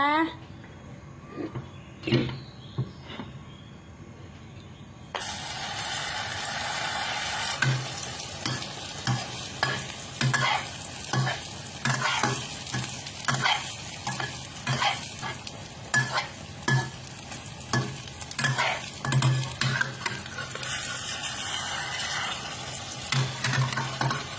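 A generous amount of oil sizzles and crackles steadily in a hot pan, with repeated scraping and stirring knocks over the hiss.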